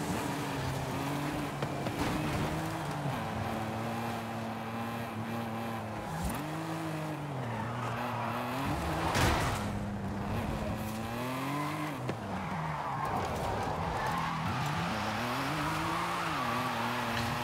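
A BMW in Forza Horizon 5 drives steadily, its engine rising and falling through repeated revs while the tires squeal and skid through several slides, all loud and continuous.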